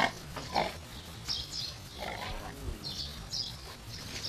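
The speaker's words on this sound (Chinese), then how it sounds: "这猪身上怎么有黑圈啊？" A pig grunts and snuffles in a rural sty, several rough low grunts close by with faint bird chirps in the background.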